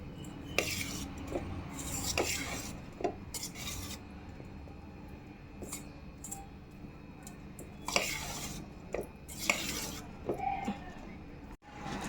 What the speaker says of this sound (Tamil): இப்போ ஒன்றும் எல்லாம் நல்லா கலந்து விட்டுக்கலாம்